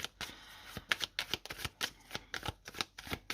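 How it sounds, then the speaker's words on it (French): A tarot deck is shuffled by hand in quick, crisp riffles and taps, close and quiet, with uneven bursts of card noise and no talking. "Je vais utiliser le arcanum. Et je vais prendre aussi trois cartes."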